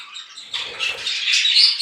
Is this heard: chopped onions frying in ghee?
no